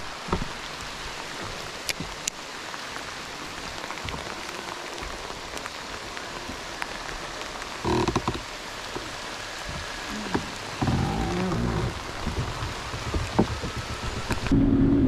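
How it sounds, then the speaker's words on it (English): Heavy rain pours steadily across Chickamauga Lake, dense and hissing, with faint distant rumbles of thunder and a few brief knocks nearby. "It's coming down rain, y'all."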